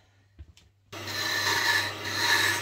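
Tool being sharpened with a steady abrasive rasping that starts abruptly after a few faint knocks and continues loud and unbroken to the end, with a low hum underneath.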